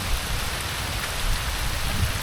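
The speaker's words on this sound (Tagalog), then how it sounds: "Walang tigil ang ulan eh oh." Steady rain falls continuously at a lakeside campsite in Cavinti, Laguna, a dense even patter with low rumbling underneath, fairly close and moderately loud, no voices.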